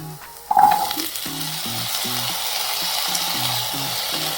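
Chopped potatoes drop into a pan of frying onions with a sharp burst of sizzle, then a steady hiss of oil continues while they are stirred, close and loud with no talking.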